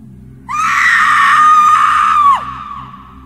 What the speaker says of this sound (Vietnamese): Con chết trôi gào to lên rồi nó biến mất.